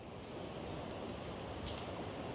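Ocean waves breaking on a rocky coastal point with strong wind and spray, a dense steady roar of surf and wind buffeting, close and continuous, with no voices.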